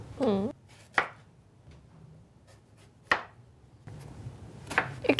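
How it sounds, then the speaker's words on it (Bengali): Eggplant being cut into large chunks on a board, giving three or four sharp, separate knife chops with quiet pauses between them and faint room noise underneath. "শুরুতে আমরা বেগুনটা কেটে নিচ্ছি বেগুনটা একটু বড় করে কেটে নিতে হবে"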